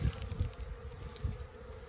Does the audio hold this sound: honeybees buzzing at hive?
yes